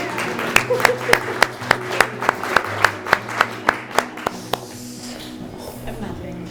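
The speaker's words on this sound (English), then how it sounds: "Round of applause for Peter." Wedding guests at a ceremony clap in a steady rhythmic burst of about a dozen sharp claps, close and fairly loud, fading out into quiet room tone.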